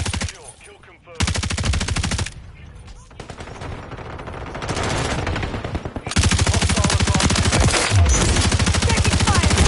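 Machine gun fire in Call of Duty Modern Warfare 3 comes as rapid, loud automatic bursts broken by brief pauses, then one long sustained stream near the end, with voices speaking in between.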